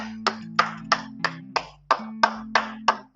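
Ten sharp finger snaps ring out one by one at a steady, unhurried pace, close and crisp, with a low sustained tone running beneath them and no talking.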